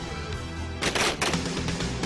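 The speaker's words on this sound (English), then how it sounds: "short fire bursts." Short bursts of firearm fire during commando close-quarter combat training crack out in a quick cluster of sharp, loud reports after a low background rumble.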